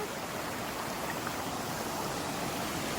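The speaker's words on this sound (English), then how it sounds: "and now we have a mini waterfalls over there" Small waterfalls running off a mountain after a week of nonstop rain, a steady broadband rush of flowing water, even and continuous, heard up close with no other sounds.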